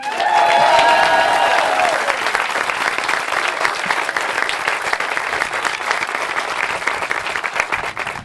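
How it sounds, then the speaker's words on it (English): Crowd applauding and cheering outdoors at a Miracle League baseball field groundbreaking in Olathe, a steady loud wash of clapping across the whole stretch, with a few raised voices and whistles near the start. "I would love to hear a big cheer for all the work that's gone into today here in Olathe."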